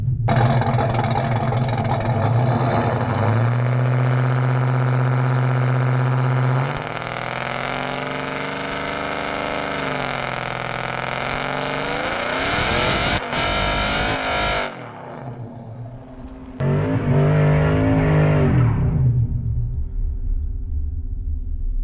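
A 2014 Chevrolet Silverado 4WD with a big cam rumbles loudly, then revs and accelerates through rising engine pitch, briefly drops away as it stalls, and roars again, heard close throughout.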